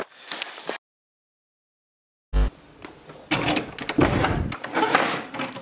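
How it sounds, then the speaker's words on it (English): A stuck door is rattled and tugged at a house, with repeated thumps and scraping clunks in bursts, including one sharp bang after a silent gap. "Yo, Amber, your door's stuck."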